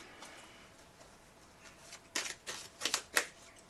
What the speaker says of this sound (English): We're having a big girl shuffle here.